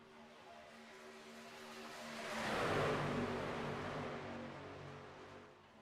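Race trucks at Daytona in the iRacing simulator roar past in a pack, the engine drone swelling to a loud peak mid-pass and then fading away.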